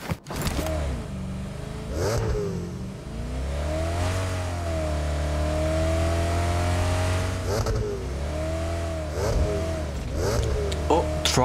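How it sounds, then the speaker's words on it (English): Car engine in a battle royale video game revs and shifts up and down through rising and falling whines, loud and close, while players talk over it. "Car sound."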